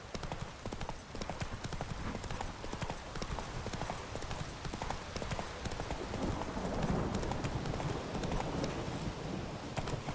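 Galloping hooves of the horse Roach in The Witcher 3: Wild Hunt, a rapid, steady clip-clop drumming that runs without a break under a faint game soundscape.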